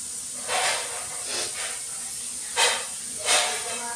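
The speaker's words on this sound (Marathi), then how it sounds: "स्वयंपाकाची शिट्टीचा आवाज येतो का?" A pressure cooker whistle releases steam in a home kitchen during the busy morning cooking, with four bursts of hiss rising over a steady faint background hiss, two softer and two sharper.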